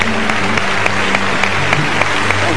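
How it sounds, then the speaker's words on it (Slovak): A church congregation applauds in steady, dense clapping that fills the room, with faint background tones and murmurs beneath it. "Let's just applaud him this morning."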